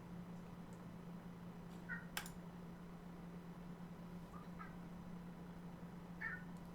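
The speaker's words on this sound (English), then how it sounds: "Hey, kitty cat." A house cat meows softly a few times indoors, short faint calls spread apart over a steady low hum, with a brief click partway through.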